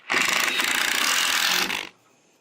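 A screw is driven into wood during a chicken coop build, a dense ratcheting, whirring burst lasting under two seconds that stops abruptly, then quiet.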